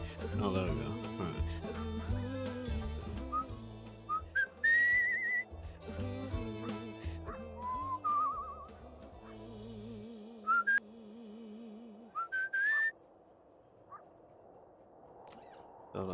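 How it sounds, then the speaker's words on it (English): Whistling in the video game Where The Water Tastes Like Wine, bright wavering whistled notes and short trills over game music, with a person talking intermittently. "I don't quite understand the whistling."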